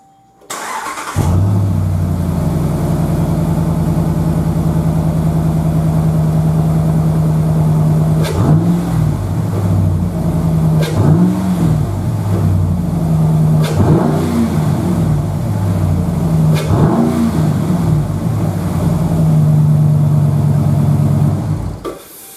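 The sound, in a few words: Ram truck engine starting and revving, Flowmaster exhaust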